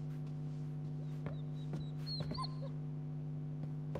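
A dog named Kubrick whimpers and yips softly in Marvel's Guardians of the Galaxy, a few short high whines over a steady low game hum.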